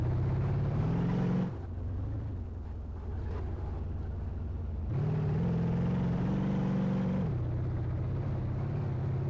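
Car engine in The DRIVE, a crash-test driving simulator game, droning steadily with its pitch climbing and dropping as gears change, dipping to a lower hum in the middle before rising again; loud and continuous, with no talking.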